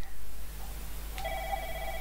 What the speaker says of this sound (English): Phone ringing from distance.